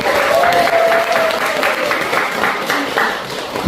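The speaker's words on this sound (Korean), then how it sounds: "이 목사님께 오늘 경례박수." A church congregation applauds their pastor in a sustained, dense wash of clapping that fills the room, with a faint voice or tone briefly rising above it.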